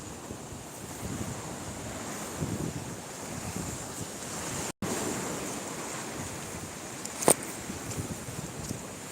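Sea waves wash continuously onto the shore in a steady broadband roar, with wind buffeting the microphone and a brief dropout partway through.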